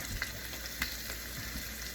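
Eggs sizzling steadily in a hot pan for an oatmeal, eggs and sausage dish, with a bright continuous frying hiss and a couple of small taps from cracking or stirring, no voices.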